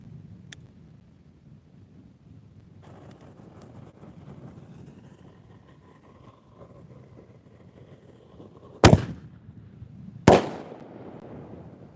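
Outdoor fireworks at a year-end display: after a quiet stretch with faint wind and a distant low rumble, two sharp, loud mortar reports ring out about a second and a half apart, each trailing off in a short crackling decay.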